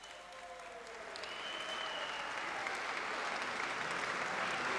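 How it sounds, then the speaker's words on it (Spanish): Audience applause welcoming the judicial choir of Valdivia to the stage at a national gathering of judiciary choirs, a steady wash of clapping that swells slightly and stays loud throughout, with no talking. "Invitamos con un enorme aplauso que pasen adelante nuestros dueños de casa, el Coro Judicial de Valdivia."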